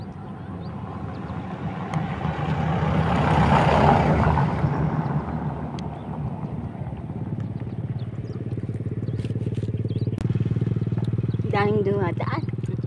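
Road traffic passes a rural yard: a loud motorcycle-like engine swells and fades as a vehicle goes by, followed by a steady engine rumble as more traffic moves past, with a voice speaking briefly near the end.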